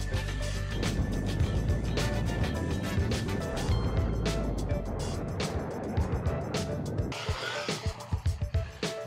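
An MJX HyperGo 14303 1/14-scale brushless RC rally car built as a Citroen C3 WRC whines and buzzes nearby as it drives around, with rapid bursts of throttle and quick, choppy changes in speed.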